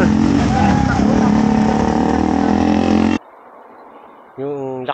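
Motorcycles racing past on the Marilaque highway, a loud close engine roar sweeping by for about three seconds, cut to quieter road ambience, then another rising engine whine at the end.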